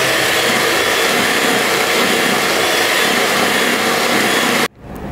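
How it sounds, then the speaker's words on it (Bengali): An electric mixer whirs steadily and loudly as it beats butter cream with cocoa powder, then cuts off abruptly near the end. "কোকো পাউডার দিয়ে ভালো করে বিট করে নিচ্ছি।"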